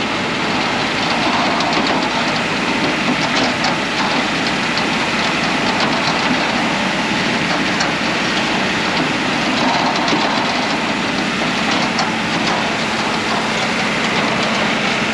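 A tractor carrying a round bale spreader lays straw over strawberry rows on a still morning, its engine and clattering spreader making a steady, loud, continuous mechanical roar throughout with no talk.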